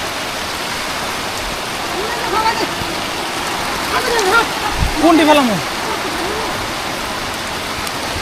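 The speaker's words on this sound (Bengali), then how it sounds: "বৃষ্টি হইতেছে বৃষ্টিতে গোসল করতেছি" Heavy rain pours steadily on a rooftop garden as a broad, even wash of hiss that holds through the whole stretch, with a voice talking over it partway through.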